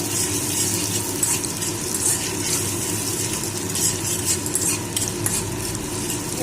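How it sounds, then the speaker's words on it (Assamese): Loud, constant sizzle of onions frying, with repeated scraping and clinks of a utensil stirring the pan. "এয়া পিঁয়াজ ভাজি আছোঁ, পিঁয়াজটো অকণ কাঢ়াকৈ ভাজি লওঁ।"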